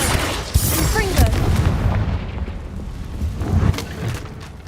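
Confringo spell blast in the Hogwarts Legacy video game, a sharp booming burst followed by a dense rumbling roar of game effects, loud and close, with a second swell of impact a few seconds later.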